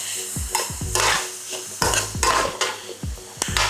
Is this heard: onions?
yes